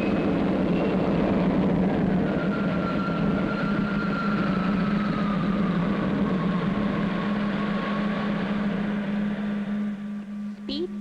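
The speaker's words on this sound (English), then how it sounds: "Ready to lift. Takeoff program starting now." A spaceship's engines rumble at takeoff in a 1962 science-fiction puppet series, heard as a steady, loud droning hum with a sustained tone and a faint rising whine throughout.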